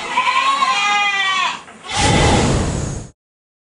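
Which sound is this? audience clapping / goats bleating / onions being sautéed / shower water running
goats bleating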